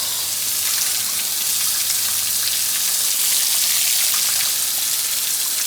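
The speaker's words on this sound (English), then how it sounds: "I hit them really good with this hose." A garden hose sprays water steadily across the coils of an outdoor AC condenser, giving a dense, continuous hiss and patter that stays close and fairly loud throughout with no pauses.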